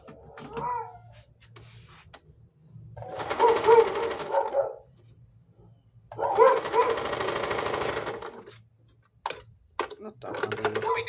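A Panavox 482DF overlock sewing machine runs in two loud, rapid buzzing bursts of a few seconds each, separated by quieter pauses with light clicks and handling noise.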